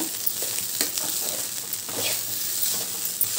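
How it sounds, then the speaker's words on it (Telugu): Vegetable fried rice sizzles steadily in a hot pan while being stirred fast, with scraping and tossing noises close up over the continuous frying hiss. "ఒక చేత్తో ఇలాగ ఫాస్ట్గా కలుపుతున్నాను అనమాట."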